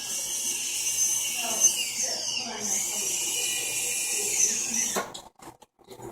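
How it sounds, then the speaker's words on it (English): A high-pitched rotary tool polishing file marks off a ring, whining steadily for about five seconds with small pitch dips as it presses on the metal, then stopping abruptly, close and clear. "polishing off my file marks that I had on the ring, rounding everything up"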